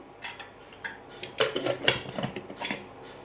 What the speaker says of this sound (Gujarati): હવે આપણે આને ઢાંકી દઈશું કુકરને